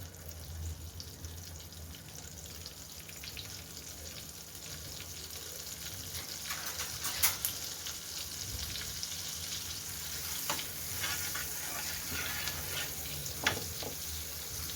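A cube of butter melts in a hot pan with a soft, steady sizzle, quiet and close, broken by a few light clinks and scrapes.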